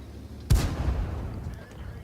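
A single heavy tank-gun or artillery shot in World of Tanks, one loud booming blast with a long rumbling tail fading over about a second and a half.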